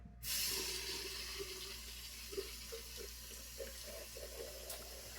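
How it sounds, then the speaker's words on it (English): A bathroom tap starts running and keeps up a steady, soft hiss of water during a rinse between shaving passes, with a few faint clinks beneath it. "Rinse off for round 3."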